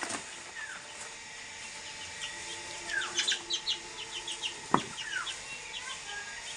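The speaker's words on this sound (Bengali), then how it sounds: "চারটা গলা ছিলা মুরগি।" Naked-neck chickens on a farm in Manikganj, Bangladesh, cluck and chirp in a cluster of short, moderately close calls, with one sharp knock partway through.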